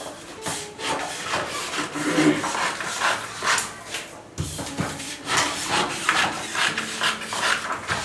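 Scissors cutting through fabric for a skirt piece during tailoring, a steady run of close crisp rubbing and snipping strokes over about eight seconds with a brief pause midway, no talking.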